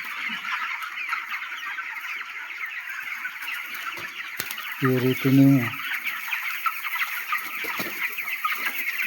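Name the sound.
chickens clucking on a chicken farm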